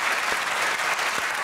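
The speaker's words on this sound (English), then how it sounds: "Oh, a begrudging round of applause." Studio audience at a television word-game panel show gives a brief, lukewarm round of applause, dense steady clapping throughout with no voices over it.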